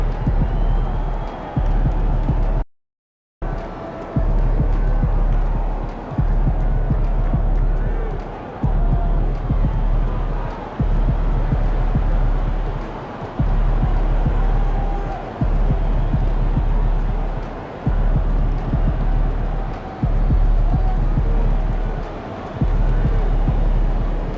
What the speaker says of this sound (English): Surprisingly loud crowd tonight.